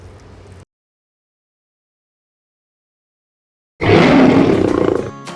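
A loud lion roar bursts in after a short silence, following a brief opening burst of sound, as a big-cat sound effect in a dentist advertisement.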